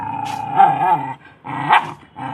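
A dog growls close by in long, throaty rumbling phrases, two swelling snarls separated by a short pause, loud and alone without speech.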